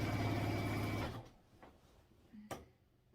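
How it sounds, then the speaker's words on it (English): A sewing machine runs close up, stitching quilt binding along an edge for about a second before stopping, followed by a few faint clicks and a brief knock. "all I'm doing is lining it up on the edge and sewing down through there"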